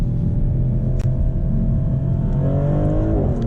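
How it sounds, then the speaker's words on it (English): A 2025 Maserati GranCabrio Trofeo with all-wheel drive revs hard in manual mode as it downshifts from fifth through third to second and then accelerates. The engine roars loud and continuous, and a sharp pop bursts out near the one-second mark. "we'll downshift from fifth to third to second, and we'll get some pops if we accelerate here"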